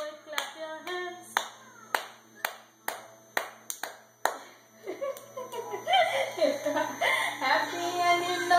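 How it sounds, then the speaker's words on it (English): Several people clap hands in a quick, steady rhythm during the children's song "If You're Happy and You Know It". Sharp, loud claps repeat for several seconds, then give way to voices singing and chattering. "clap your hands."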